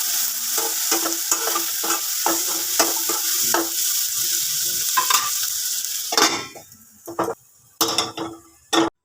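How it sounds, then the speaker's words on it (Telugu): Green chillies and onions frying in leftover egg oil in a pan, steady sizzle with rhythmic scraping and stirring strokes, then clattering spatula taps and pauses toward the end. "ఆ గుడ్లు వేపిన ఆయిల్తోనే కొంచెం పచ్చిమిరపకాయలు, ఉల్లిపాయలు అయితే వేపుతున్నాను"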